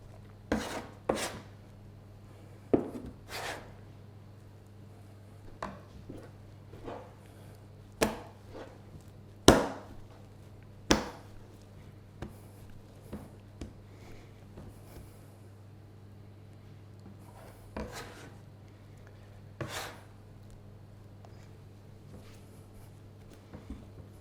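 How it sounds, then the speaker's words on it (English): Dough for an Italian Pandoro Christmas cake worked with a dough scraper on a countertop, giving sharp intermittent taps and scrapes at irregular intervals over a steady low hum. "So continue to use the scraper."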